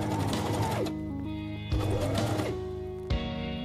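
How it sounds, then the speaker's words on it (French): A sewing machine stitches the 1 cm seam of a reversible tote bag in three short, loud bursts, its motor whirring up and slowing between runs, heard up close with no voices. "j'ai placé une bande de masking tape en repère à 1 cm parce que je vais coudre à 1 cm"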